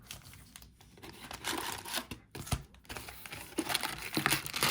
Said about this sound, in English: We're actually going to take the cards out because this is a very tight box.